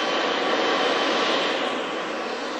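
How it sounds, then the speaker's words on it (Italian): An airplane's engines roar steadily and loudly at close range, a continuous broadband jet rumble and whine that eases slightly toward the end. "Ecco, l'aereo lo vedete"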